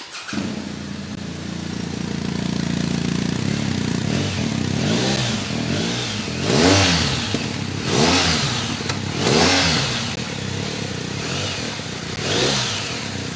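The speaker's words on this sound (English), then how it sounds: "So that's the roar of the R1250." A BMW R1250 motorcycle with a horizontally opposed boxer twin idling steadily, then revved in a series of strong throttle blips that rise and fall, heard close and loud with no talk.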